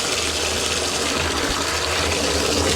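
Water from a well rushes out of a hose in a steady, loud gush with a constant hiss and no pauses.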